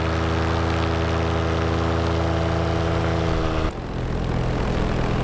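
Paramotor engine running in flight, a loud steady droning buzz with a strong harmonic whine that shifts abruptly near the end, close and continuous, with wind rush and no talking.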